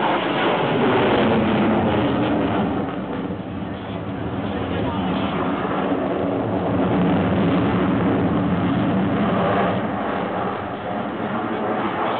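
An F-16 fighter jet of the Dutch air force performs at the Piestany air show, its engine giving a sustained, loud roar throughout while an announcer talks over it.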